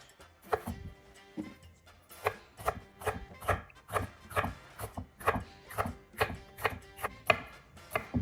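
Repeated knife chops through peppers on a cutting board, crisp close thuds in an uneven steady rhythm, about a dozen strokes with no speech.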